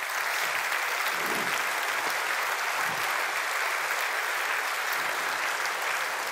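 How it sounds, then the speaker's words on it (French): An audience applauds steadily and loudly at a Belgian cinema quiz event, a dense wash of clapping with no pause. "Et c'est bien sûr Lucas Bellevaux qu'on applaudit sous vos applaudissements."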